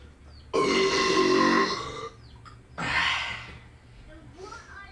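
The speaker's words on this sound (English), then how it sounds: "Count on the burp." Two long, loud belches after drinking Pepsi, the first about a second and a half, the second shorter, with a brief breathy sound between them.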